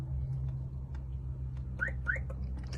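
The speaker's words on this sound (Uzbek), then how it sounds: "Birozdan so'ng mashina o'zi signal beradi" A car alarm gives two short rising electronic chirps in quick succession over a low steady engine hum, fairly faint.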